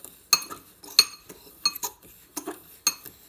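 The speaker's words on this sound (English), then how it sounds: "all I'm going to do is mix my sugar and cinnamon" A spoon clinks against a bowl while a cup of sugar and a tablespoon of cinnamon are mixed for buñuelos, giving several sharp, separate clinks in an irregular rhythm, close by and fairly quiet, with no talking.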